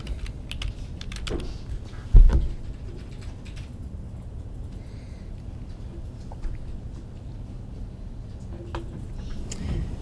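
Typing on a computer keyboard to add text in presentation software, a close, steady patter of key clicks with one louder thump early on, running continuously without speech.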